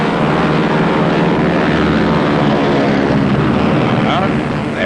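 Engine drone of a captured Junkers Ju-88 aircraft, a loud, steady roar that fills the whole stretch with no pause and no clear talking over it.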